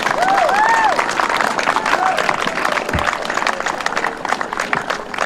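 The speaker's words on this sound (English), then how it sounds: "can we just give the Jump Board and the county staff another round of applause for making this happen?" A crowd applauds at the opening of a playground, with dense clapping mixed with a few cheers and whistles and some voices and chatter running underneath.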